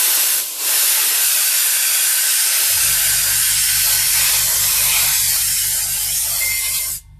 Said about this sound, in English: It's had a good shake and we're just going to spray it straight in.